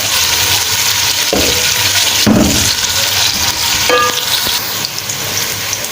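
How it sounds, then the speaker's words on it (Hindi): Sliced onions fry in a pot for chicken biryani, a steady loud sizzle and crackle broken by a few scraping stirs of a spoon. "देखें फ्रेंड्स, प्याज हमारी ब्राउन होने लगी है।"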